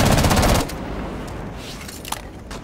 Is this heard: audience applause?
no